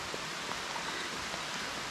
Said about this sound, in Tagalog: Tignan mo naman ngayon oh. Ang lakas ng ulan dito.